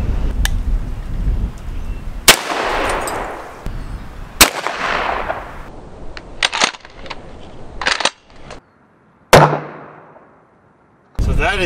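Gunshots fired at a tractor tire on a farm, several sharp loud reports spaced unevenly, each followed by a short decaying echo, with quieter outdoor sounds in the gaps between them.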